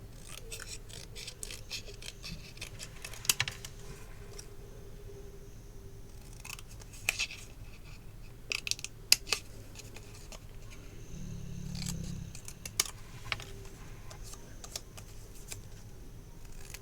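Small scissors snip through paper in irregular bursts of short crisp cuts, close and quiet, as a word is cut out for a mini album frame craft project, with a soft low hum midway.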